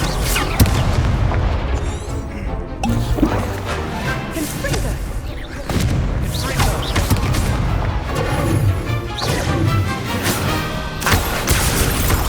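In the video game Hogwarts Legacy, the Incendio fire spell erupts in a series of loud, booming blasts and crackling bursts amid continuous chaotic combat noise, with several heavy impacts spread across the passage.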